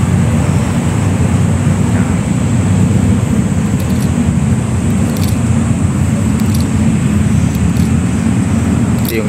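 Steady highway traffic in Manila heard from inside a moving car, a constant loud rumble of road and engine noise with wind, unbroken for the whole stretch.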